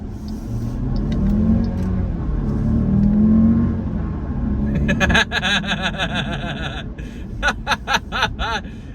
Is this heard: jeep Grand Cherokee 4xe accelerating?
yes